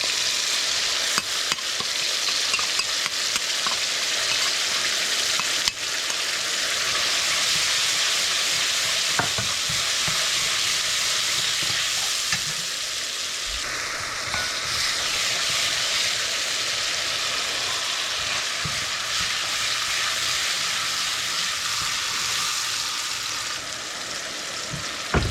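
Curry paste fries and is stirred in a pot for a shrimp curry with mango and sijan, giving a steady, close sizzle with scraping spoon strokes throughout, no voices.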